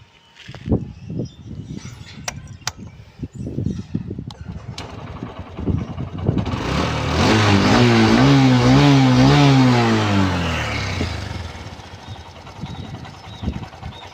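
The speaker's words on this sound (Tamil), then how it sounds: "இப்போ நம்ம வந்து வண்டியை ஸ்டார்ட் பண்ணுறோம்" A Honda Shine 125 BS6 motorcycle with a fuel pump starting fault: a few clicks and knocks, then the engine catches and rises into a loud, revving run before settling back down.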